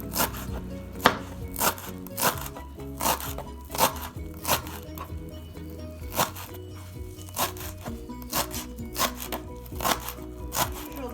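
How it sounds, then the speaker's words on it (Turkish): A knife finely chopping half a bunch of parsley on a board: a steady run of crisp, close, rhythmic chops, many per second with short pauses, and no talk over it. "Yarım demet maydanozumu da ince ince kıyıyoruz arkadaşlar"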